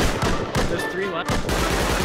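Rapid bursts of gunfire in the survival game Rust, several loud close shots in quick succession with brief gaps, over a steady background of in-game noise.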